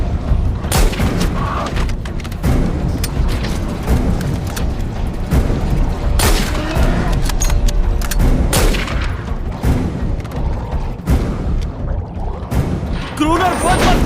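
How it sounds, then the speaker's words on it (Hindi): Dense volley of gunshots and booming blasts from a 2018 horror film scene, heavy and continuous with sharp repeated reports over a low rumble, while voices shout through the chaos. "गोली चलाओ, गोली चलाओ, गोली चलाओ"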